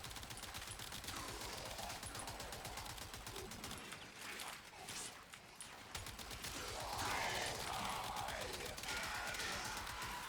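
Stahlta rifle in Warframe firing its alternate mode, a steady, fast stream of rattling shots lasting throughout, surging louder toward the end, with no talking.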